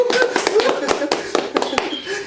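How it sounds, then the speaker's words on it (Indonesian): A few people clap hands briefly in an indoor studio chat, a short run of sharp, uneven claps mixed with voices talking and laughing. "Tepuk tangan lu dong."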